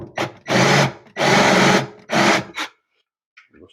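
Power drill countersinking a screw into a Home Depot cabinet during installation, three sustained whirring bursts of about half a second each, close and loud, followed by a short final burst and a faint tail.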